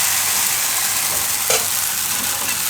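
Flattened-rice appam batter, spooned into a hot pan, fries with a loud, continuous hiss and crackle, broken only by one brief metallic clink of the spoon.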